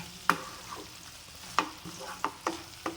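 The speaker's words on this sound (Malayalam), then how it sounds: "ഒരു തക്കാളി വട്ടത്തിൽ കട്ട് ചെയ്തത് ഇട്ട് കൊടുക്കുന്നുണ്ട് കരിവേപ്പിൻ്റെ ഇലയും കൂടി ഇട്ട് നന്നായിട്ട് അഴറ്റിയെടുക്കാം" Tomato slices and curry leaves sautéing in a pan for soya dry roast, a soft steady sizzle broken by several sharp spoon scrapes and stirs at an uneven rhythm, close and fairly quiet, no voices.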